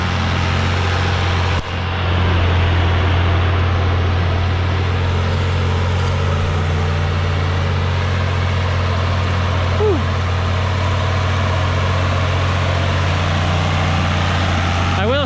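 Tractor pulling an anhydrous ammonia applicator through field soil, a steady low engine drone with a constant hiss and rumble of the shanks cutting the ground, continuous and close, with a brief knock near the start.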